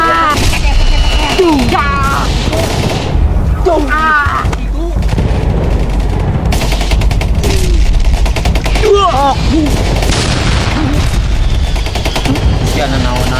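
Gunfire crackles in rapid bursts during an action comedy sketch, loud and continuous, with voices shouting over the shots.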